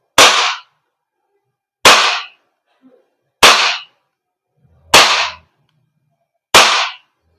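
Five sharp shots from a Kjworks KP-19S / CZ Shadow 2 airsoft BB pistol being test fired, evenly spaced about a second and a half apart, loud and close, each a crisp crack with a brief tail and near silence between.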